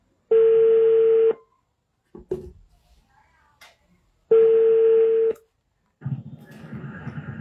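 Phone line ringing while calling someone back: two long, loud, steady tones about three seconds apart, with brief clicks and muffled noise in the gaps before the line opens.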